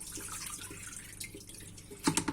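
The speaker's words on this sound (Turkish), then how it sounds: "Şöyle yıkayıp yıkayıp arkadaşlar süzgece alacağım." Anchovies from Sinop being rinsed in running water and tipped into a colander in a home kitchen, faint trickling and splashing that ends in a brief louder burst of pouring water.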